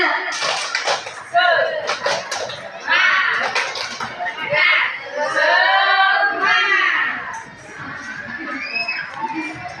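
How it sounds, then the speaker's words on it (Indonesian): A group of adults claps a rhythmic spirit clap, the tepuk semangat, in a room amid shouting and cheering voices, the bursts of claps close and lively under chatter. "Ya coba Bapak Ibu kita tepuk semangat dulu."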